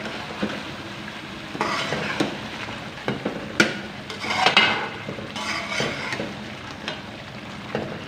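Chicken gravy with spices, chicken powder and green chilies bubbles and sizzles in a pan while a spoon scrapes and clatters against the metal in uneven bursts. No one speaks.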